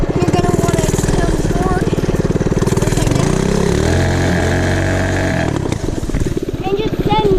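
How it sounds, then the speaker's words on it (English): A mini bike engine revs hard for a stand-up burnout in leaves, a loud buzzing motor rising and falling in pitch close by, with a voice talking over it. "just send the throttle out and make the burnout"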